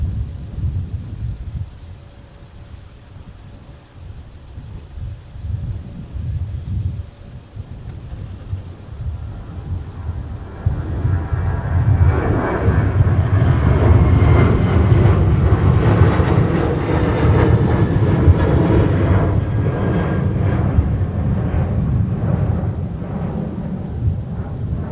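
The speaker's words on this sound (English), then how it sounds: "let's watch and listen to our Eastern Air taking off" An Eastern Air jet taking off at snowy winter MSP airport, a deep distant rumble that swells into a louder roaring wash after several seconds and holds, with no talk.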